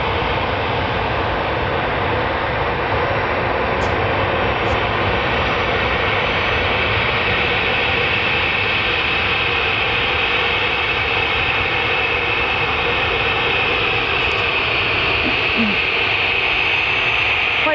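Airliner taxiing back toward the terminal at Manchester Airport, a loud constant broadband jet engine roar with a steady high whine, continuous and unbroken outdoors.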